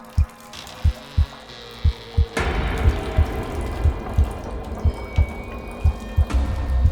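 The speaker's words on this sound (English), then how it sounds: "started to hear a drip" Water drips in a hostel bathroom stall, a slow, regular series of distinct plinks that keeps going over a low hum that swells partway through.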